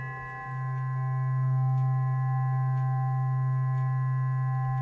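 A steady, sustained sine wave tone from a homemade FM synthesizer, with a strong low fundamental and bright overtones, holding constant pitch alone for several seconds.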